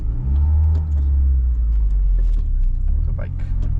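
An EF sedan rolls forward with its engine holding a low, steady rumble close by, with a few faint clicks and knocks on top.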